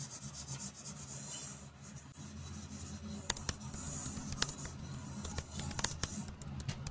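A coating is rubbed carefully onto cello equipment with fine, close strokes, giving a steady soft scrubbing hiss that turns into a denser run of short scratchy rubs in the second half, with no talking.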